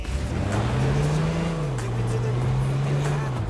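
A car driving in the video game H1Z1, with a steady engine drone that rises and dips slightly in pitch, loud and continuous.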